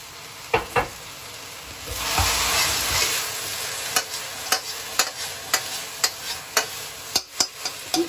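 A wok of guo bao rou, fried pork pieces with sliced vegetables, is stir-fried with a loud sizzle under a run of sharp, rhythmic scrapes and clanks of the spatula against the metal, close up and with no talking.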